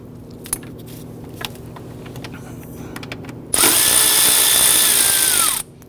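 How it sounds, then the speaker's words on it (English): Power driver spinning out 10mm bolts on a 2011-2014 Kia Sorento engine, preceded by quiet clinks and handling, then a loud steady two-second whine up close that winds down, no talking. "they're all using 10mm bolts here. I'm going to go ahead, loosen and remove these"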